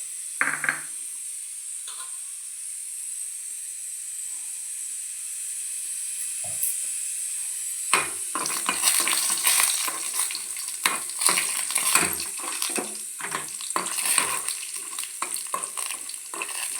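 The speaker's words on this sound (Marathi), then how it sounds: "बारीक गॅसवर हे काजू तळून घ्यायचे आहेत" Cashews frying in oil and ghee in a kadhai over a low flame: a steady soft hiss throughout, joined midway by livelier crackling sizzle and stirring clatter, close and continuous.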